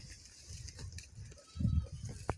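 Goats on a farm, with a low bleat and animal shuffling under faint talk in Hindi or Urdu, close and moderately loud.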